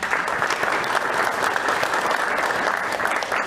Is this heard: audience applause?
yes